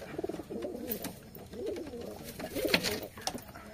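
Several pigeons coo nearby in soft, repeated throaty bursts, overlapping at a relaxed, uneven rhythm.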